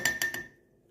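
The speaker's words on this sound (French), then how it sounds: "On mélange, on mélange, on mélange." Three quick metallic clinks of a whisk or spoon striking a bowl while mixing a fruit vinaigrette with orange, apple and figs, close and bright, the last ring fading out.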